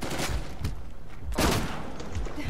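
Gunfire rattles in an Uncharted 4 multiplayer match as several weapons fire at once, with dense bursts of shots, a sharp loud volley near the middle and a steady combat din underneath.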